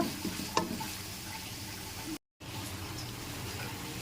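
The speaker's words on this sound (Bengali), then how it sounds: "এখন পেঁয়াজটা একটু ভালোভাবে ভেজে নিব।" Onions fry quietly in hot oil for an egg bhuna, a soft steady sizzle with a brief clink of a utensil near the start and a momentary dropout midway.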